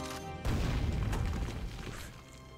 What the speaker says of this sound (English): The grenade launcher.